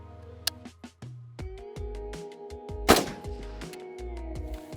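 A rifle shot fired while zeroing a Pulsar Thermion Duo DXP50 multispectral thermal scope: one sharp, loud report near the three-second mark, set among steady electronic tones and scattered light clicks.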